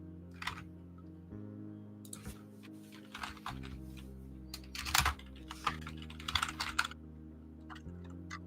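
Someone types on a computer keyboard nearby, with quick irregular clusters of clicks and short pauses over a low steady hum.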